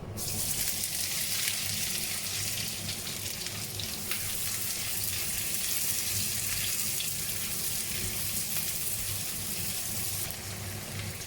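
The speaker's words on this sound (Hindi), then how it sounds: "तेल गरम हो गया है, मैं इसमें ये अनियन डाल रही हूँ।" Chopped onions sizzle steadily in hot oil with cumin seeds, a dense, continuous hiss that stays loud and even throughout, with no talking.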